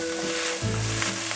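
Seasoned vegetable greens (namul) sizzle and fry in oil in a pan while being stir-fried, a steady close crackle with a brief scrape midway and no talk.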